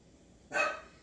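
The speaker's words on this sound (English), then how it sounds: "I don't know what Chloe's barking at" A single short bark from a dog indoors, moderately loud and alone against quiet room tone.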